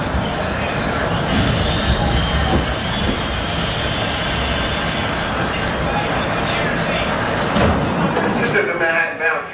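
An MTA R68A Q subway train rolls from Coney Island toward Times Square with a loud, steady rumble and rattle. Faint wheel squeals rise near the end of the ride.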